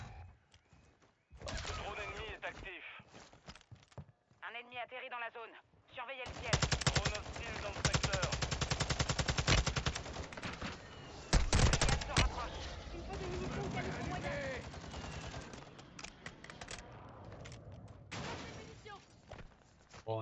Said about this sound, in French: J'ai à peine bougé et il m'a tiré dessus.